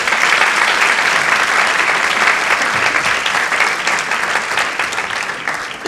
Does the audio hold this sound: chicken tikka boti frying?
no